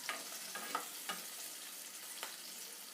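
Bitter gourd frying in a pan while being stirred now and then, a faint steady sizzle broken by a few short scraping stirs, quiet and close.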